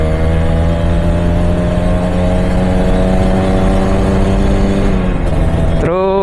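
A Kawasaki Ninja two-stroke motorcycle engine runs loud and close with a steady high-pitched buzz, then the revs drop sharply near the end before briefly picking up again.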